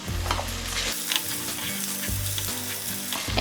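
Potatoes sizzling in hot oil in a pan for an Assamese mutton curry, stirred with a few close scraping strokes over a steady crackling fry.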